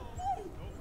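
A dog in the video game Ghostwire: Tokyo lets out a single brief, soft whimper, faint and close, with someone talking around it.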